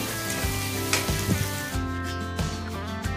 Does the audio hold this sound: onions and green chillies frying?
yes